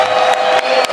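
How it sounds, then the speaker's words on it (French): A short burst of crowd cheering and clapping at a UDPS party meeting, loud and continuous with whoops rising above the noise. "il faut encore applaudir"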